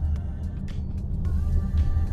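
Low, steady rumble of a parked car's interior with a faint idling hum, soft and continuous with no talk.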